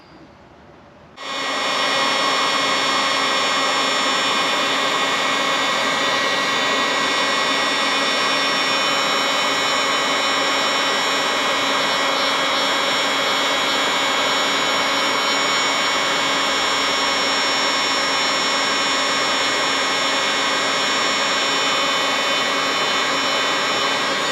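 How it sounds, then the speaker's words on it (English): Heat gun blowing on Honda Foreman ATV plastic, switching on with a quick rise into a loud, steady, close whine and rushing airflow that holds unchanged throughout. "And then you use the old heat gun."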